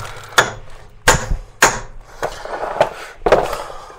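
A pin punch is struck with a hammer to drive out the hub while dismantling the drivetrain of a first-generation Renault Twingo, giving six sharp metallic blows at uneven intervals, close and loud, with no talk.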